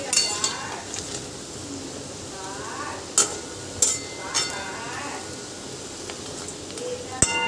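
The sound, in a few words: cauliflower pakora frying and being stirred in pan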